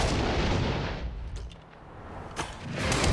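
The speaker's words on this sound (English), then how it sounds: "When Adam and Jamie recently took aim at grenades, there was fire in the hole" A grenade detonation during a test with a fire-in-the-hole warning, a loud, close blast that fades into a low rumble, then a second sharp crack and a rising roar.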